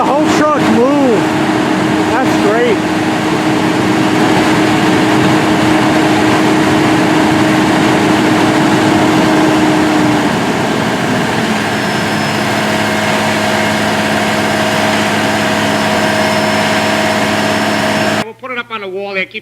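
A concrete mixer truck's engine runs loud and close at a worksite where new curbs are being poured, a steady heavy drone with a shifting tone as the drum mixes, cutting off abruptly near the end.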